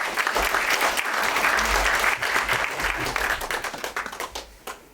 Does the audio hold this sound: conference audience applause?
yes